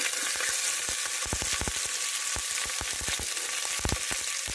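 Onion fries with star anise and a cinnamon stick in a pot for mushroom biryani, a steady close sizzle with irregular sharp crackles and pops throughout, no talking.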